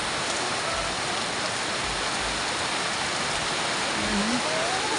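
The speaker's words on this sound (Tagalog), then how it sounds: "Buhos ang ulan." Steady heavy rain pours down in a dense, continuous hiss, close and unbroken, with no voices.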